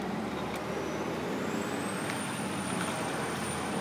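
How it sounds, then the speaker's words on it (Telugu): A bus passes along a road while a child rides a bicycle nearby, giving a steady, loud engine rumble and road roar that fills the whole moment, with a faint high whine above it. "బస్సు వెళ్ళిపోతుంది."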